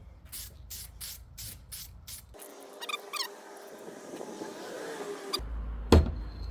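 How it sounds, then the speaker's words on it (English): Several short bursts of hissing aerosol spray paint come in quick succession, followed by a longer continuous spray with faint rattling and handling noises nearby, while painting a golf club. "I like spraying with the nozzle."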